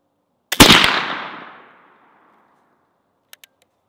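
One sharp, loud shot from a .32 caliber flintlock rifle cracks and booms, then rolls away over about a second. Two faint clicks follow afterward.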